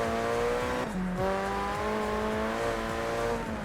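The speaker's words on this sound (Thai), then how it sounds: "บอกเลยเสียงรถเกมนี้แม่งสุดจริงครับผม" A steady, high-revving car engine in the drifting video game JDM Japanese Drift Master roars continuously, its pitch shifting with gear changes, alone without any talking.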